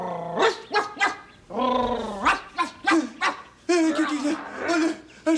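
A dog in a 1979 French-language children's television episode barks and growls in several short bursts, set against close vocal sounds and voices.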